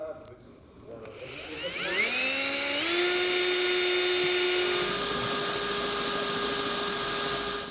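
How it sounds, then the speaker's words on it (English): A power drill bores a wire hole through the cab roof of a 2022 Chevrolet truck. It spins up with a rising whine, then holds a loud, steady high-pitched drone for several seconds. "I'm going to go ahead and make our hole for the wires to pass through."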